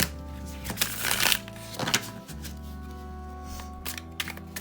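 Tarot cards on basic, durable cardstock being shuffled over a steady background hum, with a few riffling bursts that rise and fade in short clusters, fairly quiet and close.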